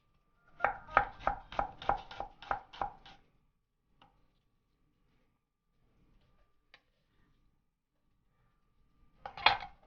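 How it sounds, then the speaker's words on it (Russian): Onion diced into small cubes with a knife on a cutting board, about nine quick, evenly spaced chops in a burst, then near silence with faint clicks, and a final short flurry of chopping at the end, close and clear. "Мелким кубиком нарезаем лук."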